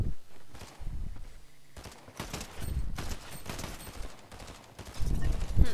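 Assault rifle fire in an online shooter video game, bursts of rapid shots and thumps coming in clusters across the span, loud and close, with little talk.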